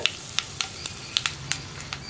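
Dried red chillies frying in hot coconut oil: soft, steady sizzle broken by a handful of sharp pops at irregular intervals, close and fairly quiet, no speech.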